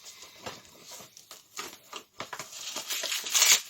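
Cellophane wrapping torn and peeled off a parcel of video games, a close run of crisp crinkles, rustles and short tearing bursts that grow louder toward the end.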